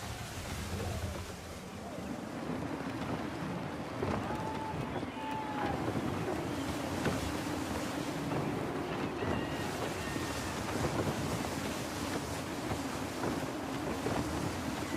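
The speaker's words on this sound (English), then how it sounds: "Gusty winds can be difficult to manage." A sailing ship in Assassin's Creed 3 pushes through gusty wind on open water, a steady loud rush of wind and sea filling the whole stretch without letting up.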